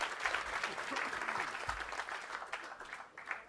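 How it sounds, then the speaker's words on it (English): Steady, moderately distant applause from an audience at an afternoon guest speaker event, honoring a speaker who shared a personal story; clapping continues evenly throughout. "one more round of applause for Daisy"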